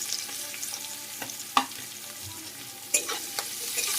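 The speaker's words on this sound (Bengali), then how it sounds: "পেঁয়াজ রসুনটাকে হালকা একটু ভেজে নেব যতক্ষণ এই কাঁচা গন্ধটা চলে যায়।" Chopped onion and garlic with dried chillies frying in oil for a lamb curry, giving a steady quiet sizzle punctuated by a few sharp spatula clicks against the pan, with no talking.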